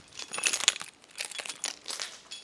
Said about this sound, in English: I just dropped my keys. Did you hear it?